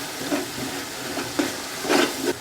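Masala with tomatoes and plums stirred in a pan, soft wet squelching and scraping strokes repeating under a steady sizzle, close and alone.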